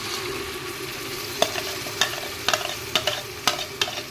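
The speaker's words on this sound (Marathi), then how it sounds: "प्युरी ॲड करून झाल्यावर चांगलं तेल सुटेपर्यंत भाजून घ्यायचं आहे" Tomato puree frying in oil in a pan, cooking down with onion and chopped tomato for tomato rice, with a steady low sizzle and a series of sharp spoon scrapes and clacks as it is stirred, roughly every half second.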